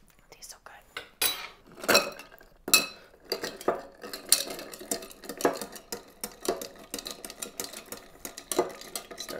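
Bar spoon stirring a Mr Black cold brew coffee Old Fashioned in a mixing glass, a run of close, clinking metal-on-glass strokes with scattered sharper chinks, moderately loud and alone.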